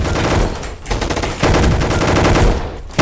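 Rapid automatic gunfire from a Roblox Gunfight Arena match, loud dense bursts of shots that break briefly near the one-second mark and then resume as continuous close-range firing.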